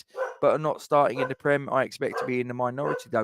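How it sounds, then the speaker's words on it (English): A dog barks in the background of a home setting, short sharp yips mixed in beneath a man's continuous close speech, faint and partly masked by the talking. "I do apologise if you can hear my dog barking in the background."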